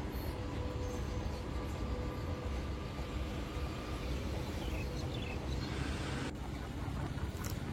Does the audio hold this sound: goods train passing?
yes